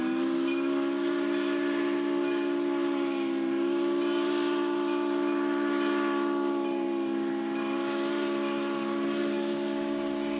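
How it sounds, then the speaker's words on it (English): Steam whistle of the Frisco 1630 locomotive, a steady, loud multi-tone chord sustained for the full length without a break, blown as the train speeds through a crossing. "this is the whistle had as it was doing its trip at a very fast speed through the crossing"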